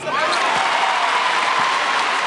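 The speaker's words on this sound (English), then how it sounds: "this crowd continues to applaud their team more so on the defensive end than they have even on the offensive end in this game" A basketball arena crowd at a college game keeps up loud, steady applause and clapping for their team, a dense continuous wash of hands with faint cheering, close and sustained throughout.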